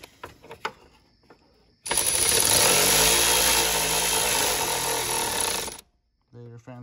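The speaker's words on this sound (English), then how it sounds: "Radiator fan's back on." The radiator cooling fan of a BMW 335i with the N54 engine kicks on abruptly into a loud, steady whooshing roar for about four seconds, then cuts off, with brief voices before and after.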